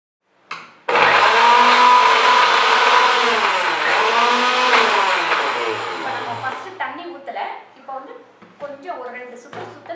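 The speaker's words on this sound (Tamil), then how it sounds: "நம்ம மூடிட்டு அரைக்க ஆரம்பிக்க போகிறோம்." A kitchen mixer grinder blends banana stem with salt and curd: a loud, steady motor whine starts abruptly after a short bump, holds for several seconds, then slows and sputters down in uneven pulses.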